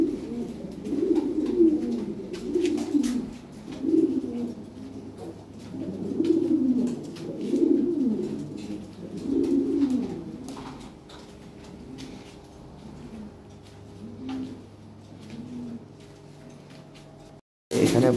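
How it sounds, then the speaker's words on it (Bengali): Several large fancy pigeons coo in deep, rolling repeated phrases close by, with occasional faint ticks and rustles around them. "বিশাল সাইজের কবুতর।"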